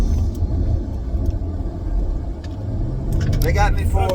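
Steady road rumble from the inside of a moving car on a drive, low and continuous as the car brakes when a truck pulls out in front, with someone speaking over it near the end.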